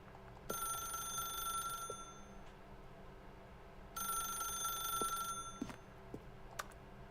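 An old-style telephone rings in The Stanley Parable video game, two long electronic bell bursts separated by a pause, clear and close with a quiet room tone between rings.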